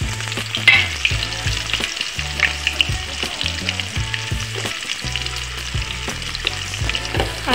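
Chopped onion and cumin seeds, with bay leaves, fry and sizzle in a pan, a steady crackling hiss broken by repeated clatters of stirring; no voices.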